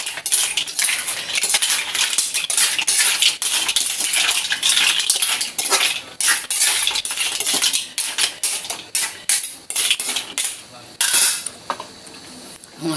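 Shrimp and mussels are stirred in a metal pan, with loud, rapid clinking and scraping of a utensil against the pan and shells, in repeated bursts with brief pauses.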